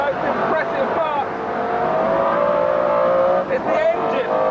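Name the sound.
McLaren F1 V12 engine accelerating on Goodwood racetrack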